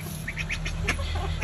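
A duck quacks in a few short, close nasal calls over a low steady background hum, with no voices over it.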